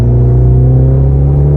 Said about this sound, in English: I'm going to try to go wide open throttle